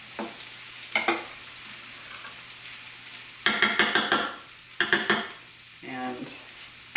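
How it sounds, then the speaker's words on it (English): Food frying in a pan for a cowboy casserole is stirred in several bursts of scraping and clattering, separated by quieter stretches of low sizzle. One brief voice-like sound is heard near the end. "I am going to give this a stir"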